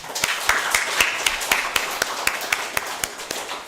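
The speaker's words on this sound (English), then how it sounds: "she deserves another round of applause" A symposium audience gives a keynote speaker a sparse round of applause, with individual claps ringing out in an uneven rhythm, close and fairly light, without talk.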